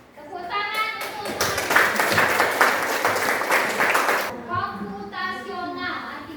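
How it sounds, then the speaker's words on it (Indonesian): Applause rises from a group at a classroom coding and artificial intelligence training session: roughly four seconds of steady, dense clapping, with voices talking just before and after it. "Tepuk tangan untuk"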